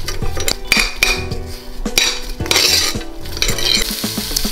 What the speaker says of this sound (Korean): 양파랑 오일이랑 고춧가루랑 이렇게 세 가지를 넣고 제가 볶아보도록 할게요